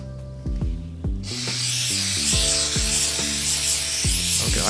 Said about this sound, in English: I've never actually used adhesive spray.